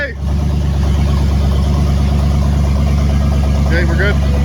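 A 1966 Oldsmobile Cutlass with a built 425 engine running, a loud, deep, steady rumble that starts abruptly and stays near, with a brief voice cutting in near the end.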